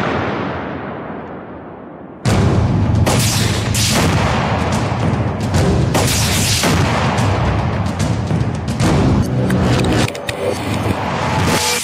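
A rocket-propelled grenade with a shaped-charge warhead is fired at a tank fitted with the Arena active protection system. A sudden loud blast breaks the quiet, then a sustained roar with further sharp bangs follows, and no one speaks.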